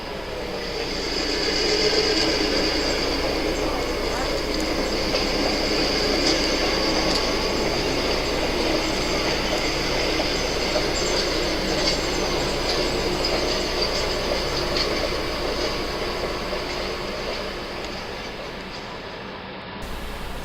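Penn Central model diesel locomotives, a GP9B and F7A pair, running on a DC model railroad layout, with a steady motor hum and faint wheel rumble continuing evenly throughout, no voices.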